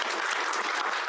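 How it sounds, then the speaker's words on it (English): A live audience bursts into a round of applause for a guest cricketer at a talk event, steady dense clapping filling the whole short stretch without pause. "please give him a round of applause"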